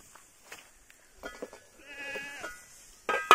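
Goats bleating on a mountain pasture with a shepherd, several wavering calls overlapping at moderate distance, then a louder, closer bleat at the end.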